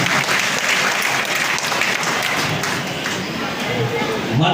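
Loud, sustained applause fills a police gathering in Kheda district as a head constable is honoured for solving a robbery case, dense steady clapping with a few thumps, continuous from start to finish.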